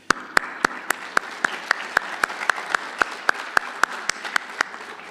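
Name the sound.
applause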